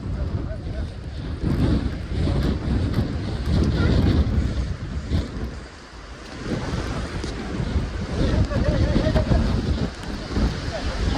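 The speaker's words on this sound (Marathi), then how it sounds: "हवा पण लय सुटले आहे." Strong wind buffets the microphone on a hilltop fort near a temple, a loud continuous roar with gusts that briefly ease midway before rising again.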